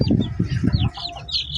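Four-day-old chicks fresh from an incubator cheep in thin high peeps close by, with a burst of lower fluttering and shuffling in the first second before the chirping continues over quieter rustle.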